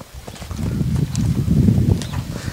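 Hooves of a purebred Lusitano horse, a dappled grey gelding about 1.66 m tall, clip-clop in a steady walking rhythm at a stud farm, close and fairly loud with no talk over them.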